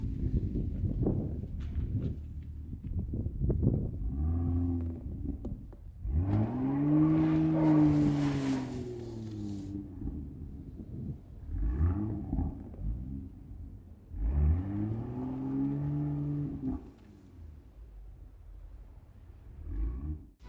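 BMW M2 rear-wheel drive car rolling in snow, its engine droning and rising in a few revving swells with low rumble between, moderately close and with no talk.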